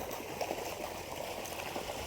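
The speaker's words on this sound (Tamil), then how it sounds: "5 HP மோட்டார், அதனால தான் வந்து நமக்கு தண்ணி ரொம்ப ஃபோர்ஸாக வருது" Water gushes steadily from a 5 HP motor pump on a fenced coconut grove property, a continuous forceful rush and splash close by, with no talking.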